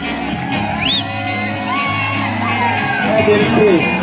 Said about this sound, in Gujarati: આપણે જોરદાર તાળીઓથી ગોપાલભાઈને વધાવી લઈએ.